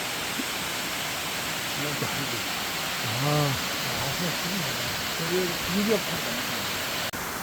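Steady, dense rush of water from Gugok Falls in Gangchon fills the background while someone speaks over it in a few brief phrases.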